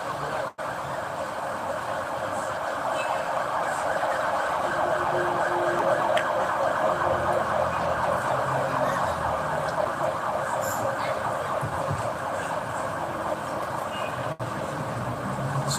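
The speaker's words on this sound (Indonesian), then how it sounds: "kita hormati ambulan" An ambulance siren wails steadily on a road amid continuous traffic noise, loud and sustained throughout with no clear fade, and no speech.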